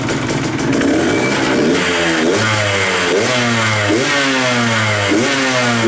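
A 2021 KTM 125XC two-stroke dirt bike engine fitted with a new cylinder head idles and blips loudly up close, with a series of repeated sharp revs rising and falling throughout, no talking.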